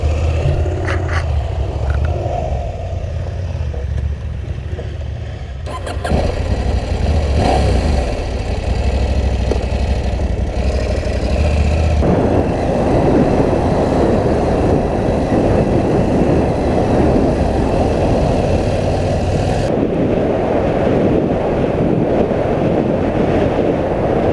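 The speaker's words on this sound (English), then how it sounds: "Andrew went to go test ride the KTM 790." A KTM 790 adventure motorcycle on a test ride at an adventure bike festival, its engine droning and revving through changing throttle, rising and falling in loudness over dusty ground as it moves.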